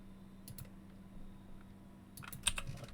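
Quiet clicks of a computer keyboard while entering a tire search in Car Mechanic Simulator: a short burst of keystrokes, a pause, then a quicker cluster of taps over a faint steady hum.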